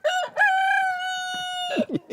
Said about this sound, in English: there's one rooster in here. He's a little gargly.